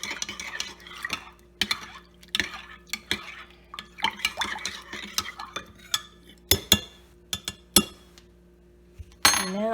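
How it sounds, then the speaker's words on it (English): Two dye colors stirred together in a cup, a brisk run of small clinks and scraping taps from a utensil against the container, irregular and close, ending with a louder splashy clatter. "So now I'm just stirring the two colors together to get them well blended."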